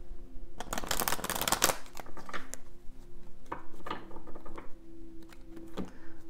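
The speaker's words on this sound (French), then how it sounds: "on va brasser l'oracle. Les petites cartes." A small deck of oracle cards being shuffled by hand: a dense, loud riffle of papery flicks at first, then softer, scattered card slides and taps continuing alone without talk.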